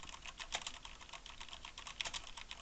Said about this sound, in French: Et on passe au test du clavier mécanique sur ce clavier Corsair K70, équipé de switch MX Red